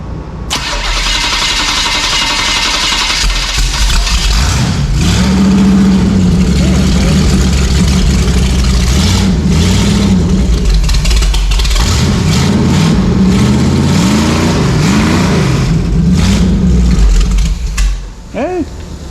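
A carbureted engine on a Dodge Dakota runs loudly and close for the whole stretch, rising and falling through repeated revs over a rough idle, with a voice faintly underneath.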